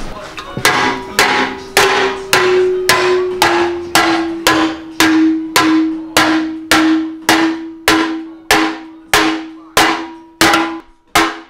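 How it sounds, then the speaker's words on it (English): Hammer blows ring on metal being flattened flush on a Lexus GS, about a dozen loud, evenly spaced clanging strikes, each with a bright ringing decay, close up with no talk. "Now we gotta hammer it down so it's flush."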